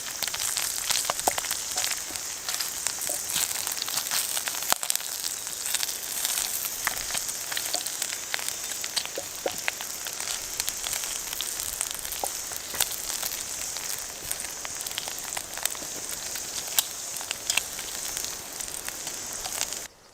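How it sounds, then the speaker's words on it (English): Rain pattering steadily on a tent while camping in a heavy rainstorm, a dense hiss of drops with scattered sharper taps, close and constant for the full duration. "it's raining. We have rain."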